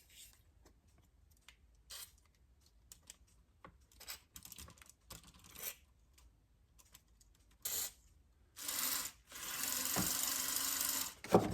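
A clockwork mechanism in a James Bond tin toy car, freshly oiled, gives scattered light clicks and ticks, then bursts into a louder, steady buzzing whir near the end.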